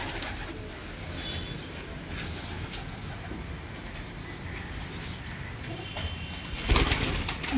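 Pigeons kept by a fancier on a rooftop coo in a steady, soft, continuous chorus, with a brief louder flutter near the end and no talk.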